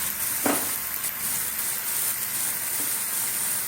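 Steady sizzle of masala frying in a pan as Kashmiri chili powder goes in, with a brief stir scrape near the start and constant hiss throughout, no voices.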